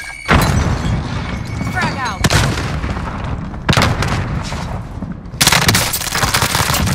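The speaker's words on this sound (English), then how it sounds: "Grenade closing in." Explosive booms and bursts of gunfire in Call of Duty: Modern Warfare Warzone, loud and close, with a grenade blast and several sharp heavy impacts breaking through continuous shooting while voices talk over the action.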